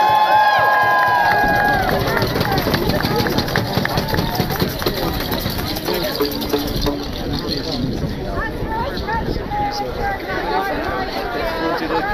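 Large outdoor crowd at a Sunday afternoon rally in support of immigrants in Ithaca, New York: dense, steady chatter of many voices, close and loud, with occasional cheers rising from the throng.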